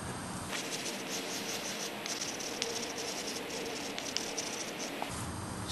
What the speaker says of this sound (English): I'm going to write it out right now